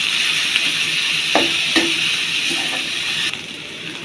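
Chopped garlic and onion frying in a pan, a steady loud sizzle with a few soft stirring scrapes, no voices.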